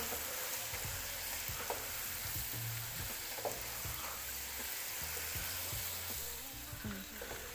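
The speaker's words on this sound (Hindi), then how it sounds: "हल्की आंच पे हम इसको भुनेंगे। हल्का सा ब्राउन करेंगे लहसुन को।" Garlic paste fries gently on low heat for a curry, giving a steady soft sizzle with occasional light scrapes and stirring clicks, no voices.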